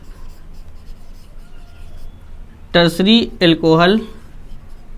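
Chalk or marker scratches faintly across a board during a chemistry lesson on alcohols, in short strokes, before someone speaks a single word.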